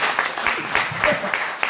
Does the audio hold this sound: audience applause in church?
yes